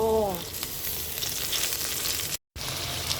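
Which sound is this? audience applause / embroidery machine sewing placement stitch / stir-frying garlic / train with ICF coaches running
stir-frying garlic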